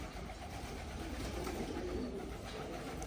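Pigeons cooing in a loft, a steady soft murmur of calls over a constant low background rumble with no talking.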